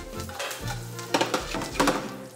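Thinly sliced garlic with thyme gently frying in a pan, a soft continuous sizzle with a few louder bursts of crackle as it is stirred, close and without talk.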